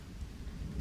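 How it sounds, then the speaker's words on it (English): Rain pours with a low thunder rumble in the jungle survival game Green Hell, a steady dense wash of falling water under a deep rolling growl, with no voices. "it's going to start to rain"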